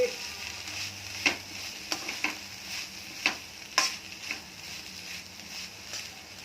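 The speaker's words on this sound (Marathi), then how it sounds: "एक 2 मिनिट ही मेथी परतून घ्यायची आपल्याला।" Sprouted fenugreek stir-fries in a pan with a soft, steady sizzle. Light clicks and taps from stirring come at irregular intervals.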